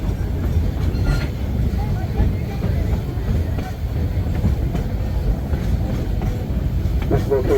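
A Georgetown Loop railroad train rolls along and eases into a siding, its steady rumble and clatter of wheels filling the carriage, with faint voices murmuring underneath.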